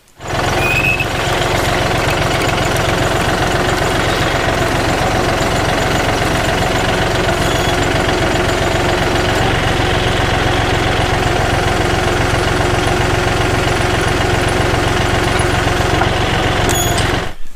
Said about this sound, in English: I'm going to pull this holly up, and then I'll get a close-up of it actually clamping it